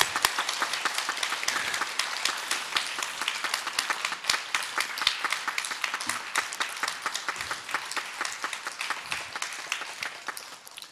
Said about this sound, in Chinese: 在大家热烈的掌声之下